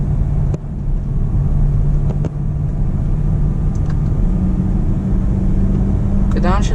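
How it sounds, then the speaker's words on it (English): A BMW M3 E93 with a dual-clutch gearbox drones steadily from inside the cabin, with a few brief sharp bursts that may be downshift throttle blips, the last one near the end. "it does blip the downshift, which is really nice"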